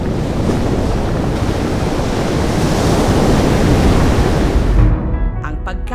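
Ocean waves wash steadily onto the shore in a loud, dense roar with wind buffeting the microphone, ending abruptly near the close.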